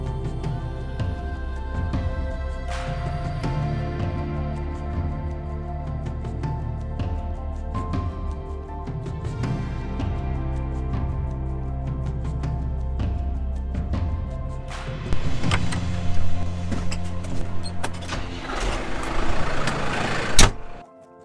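Farm machine engine started up and left to warm before hauling manure out of a barn, a loud steady rumbling idle with mechanical clanks and knocks, rising into harsher revving bursts near the end before cutting out.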